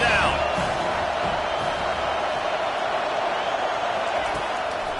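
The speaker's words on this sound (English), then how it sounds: "Decibels rising as the crowd gets behind this defense on 3rd down" A football stadium crowd roars behind the home defense on third down, a loud continuous wall of cheering that holds steady throughout.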